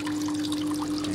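Cool groundwater gushes out of a pipe buried about four feet deep at a geothermal hydroponic strawberry setup in a hot climate, making a steady, close trickling wash with no talk.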